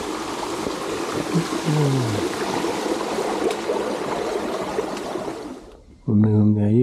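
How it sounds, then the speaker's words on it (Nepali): Stream water flowing in a rural area near a mining heritage site, a steady close rushing wash that fades briefly before a voice speaks at the end. "पानी बग्दो रहेछ त"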